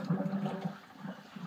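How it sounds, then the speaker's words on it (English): Water gurgles and rushes through the decant pipe of an Ozzi Kleen septic system, a steady, close, bubbling flow that swells and dips across the short moment. "if you can hear a gurgle"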